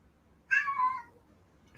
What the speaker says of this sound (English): It's annoying AF nonstop meowing.